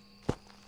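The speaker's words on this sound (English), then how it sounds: "Those footsteps went away fast." A single quick video game footstep, one short soft thud that stands alone against a faint steady background hum.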